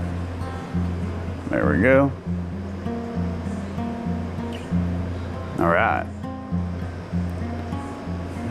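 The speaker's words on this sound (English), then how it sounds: "the water level will slowly drop down to probably about here, give or take, drain down into the sump" Aquarium water draining down into a sump makes a steady rushing, gurgling wash with low pump hum beneath it. Someone speaks briefly over it twice.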